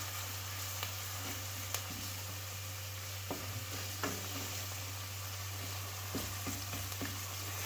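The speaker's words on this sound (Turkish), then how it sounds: "Bunları ilave ettikten sonra güzelce karıştırıyoruz" Garlic, spices, red pepper flakes and tomato paste frying in a pan, stirred with a steady low sizzle and a few scrapes and taps of the spoon over a constant low hum.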